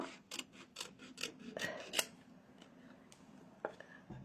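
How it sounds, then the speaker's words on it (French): Scissors snip through striped paper for a handmade baby card, a series of close crisp cuts in a quick rhythm followed by softer rustling and a couple of isolated clicks. "Donc, je vais couper ici."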